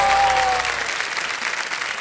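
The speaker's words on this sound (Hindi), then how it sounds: "इधर से ताली वाली बजती रहे" Studio audience applause on the set of the quiz show Kaun Banega Crorepati, a dense burst of clapping that starts loud and eases slightly over two seconds, with a brief tonal stab under the first moments and no talk.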